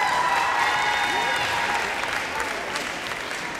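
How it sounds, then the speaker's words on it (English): Audience applause rings through a gym at a high school volleyball senior night, steady clapping from a crowd that fades slightly toward the end. "Give another round of applause to Ms. Gracie Lockwood."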